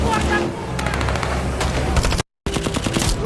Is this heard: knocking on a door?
no